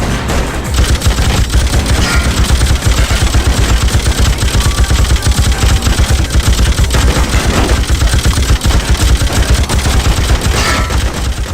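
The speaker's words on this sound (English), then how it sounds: "The automatic machine gun and flamethrower are your primary weapons" Rapid machine gun fire from a PlayStation 2 action game, a dense, loud, continuous stream of shots with occasional heavier blasts, running without pause throughout.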